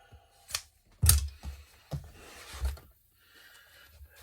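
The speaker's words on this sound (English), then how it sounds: "cut your waste out," Scissors cut waste fabric away while a dining seat pad is upholstered, giving a few close, brisk snips and rustles followed by quiet handling noise.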